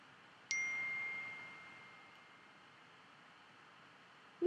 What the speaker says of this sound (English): Someone just texted me on my iPad.